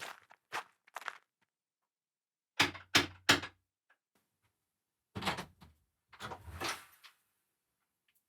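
A parcel courier arrives at a front door: a few close footsteps, then a cluster of sharp knocks, followed by more shuffling steps and door handling in an otherwise quiet room.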